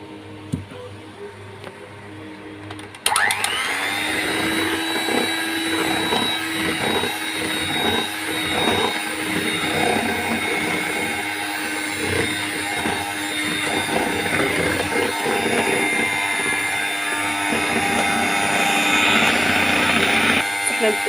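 An electric hand mixer whirs loudly and steadily as it beats cake batter with oil, starting abruptly after a few quiet seconds and running on continuously, with a voice talking over it.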